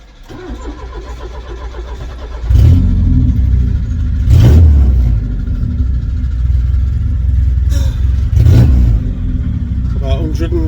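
1986 Ford Cortina P100 with a broken exhaust, its engine loud and close, idling roughly and revving in two or three sharp blips. A person talks over it.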